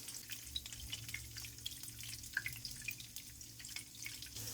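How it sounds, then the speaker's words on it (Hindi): Chapli kabab fries in a pan with a steady, quiet crackle and sizzle, soft popping spitting throughout with no voices. "2 मिनट हम एक साइड से इसको फ्राई करेंगे, 2 मिनट हम इसको दूसरी तरफ।"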